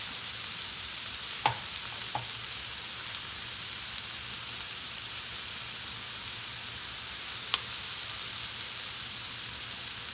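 Shrimp fry in a pan with a steady, even sizzle like light rain that runs without a break, and a few faint clicks stand out against the hiss.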